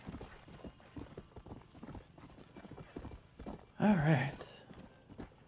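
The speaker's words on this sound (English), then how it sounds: "don't run away from me, horsey" A horse's hooves clip-clop steadily in the Western video game Red Dead Redemption, with a short whinny partway through and a voice speaking briefly over the walking rhythm.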